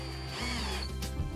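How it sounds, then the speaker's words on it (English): A power drill with a bit extender drives a screw for a shelf clamp bracket, giving a short, loud, steady motor whir with a brief change in pitch near the end. "insert a bit extender in the drill in order to drive in the second screw"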